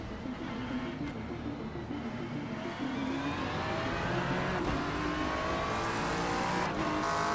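Race cars, a McLaren and a Porsche among them, go side by side through a chicane in a racing video game, engines droning steadily and close with a slight rise in pitch, continuous without pause.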